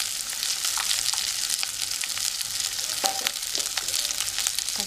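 Onion, garlic, ginger and green chili sauté in a pan for a South Indian spicy potato curry, giving a steady close sizzle and crackle with occasional stirring scrapes and no voices.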